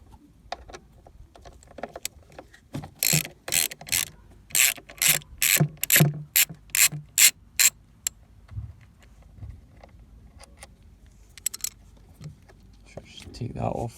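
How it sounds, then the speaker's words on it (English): A Torx bit works screws out of an electric part on a Renault Kangoo 1.5 dCi during servicing, giving a run of about ten quick rhythmic ratcheting clicks up close, with scattered handling noises and someone speaking around it. "We've got this electric part here, we'll just take it off with a Torx bit."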